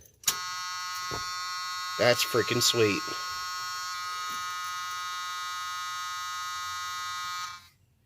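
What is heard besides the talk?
Chevy C10 dashboard key-on warning buzzer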